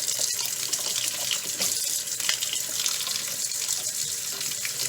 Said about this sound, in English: I'm going to fill this up with water that's, lukewarm.